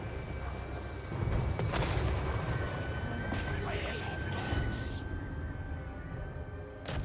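Hand cannons fire during a Total War: Warhammer 3 battle, with a few sharp booms and crackling volleys rising over the continuous din of combat while a voice talks.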